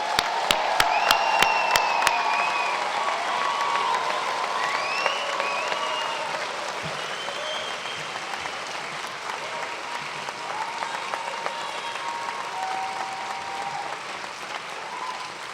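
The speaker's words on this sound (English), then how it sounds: "Let's give them one more round of applause" Sustained audience applause filling a convocation ceremony hall, dense steady clapping from a large crowd with a few sharp claps at the start and scattered whoops and cheers carrying on at an even level throughout.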